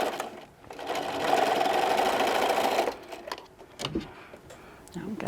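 Sewing machine stitching around the seam of a fabric microwave popcorn bag, a steady close whir for a few seconds, then stopping amid light handling clicks and rustles.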